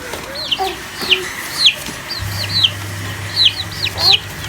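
Baby chicks in a box peep in short, high, repeated chirps, close and fairly loud, with a low hum partway through.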